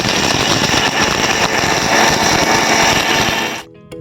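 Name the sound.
electric grinder jar grinding whole spices into powder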